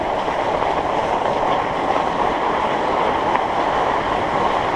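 Rapids on a river churn in a steady, loud broadband rush that holds even throughout, close by and with no voices.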